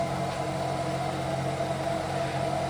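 A 2013 Ford Fusion engine idles after a remote start, a steady, even hum that stays constant throughout with no talking.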